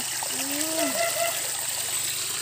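Water trickles and splashes through a channel in Alicia, Bohol, making a steady, close, continuous wash. A faint voice is briefly heard over it.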